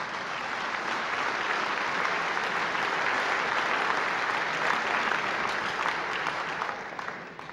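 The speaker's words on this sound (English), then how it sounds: "I hope we can have maybe a round of applause for the fallen freedom fighters." An audience at a benefit dinner applauds with sustained, dense clapping throughout, fading slightly at the end.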